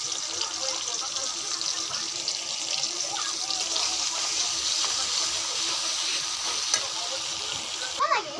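Spice paste sizzling and frying in a pan for okra curry, a steady hiss of frying with occasional stirring scrapes, close and continuous.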